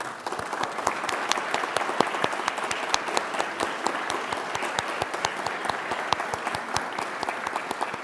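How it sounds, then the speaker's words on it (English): An audience applauds Eagle Scouts at a national heritage celebration: steady, dense clapping from a large crowd, continuous and even for the whole stretch, with no talk. "Round of applause for all our Eagle Scouts."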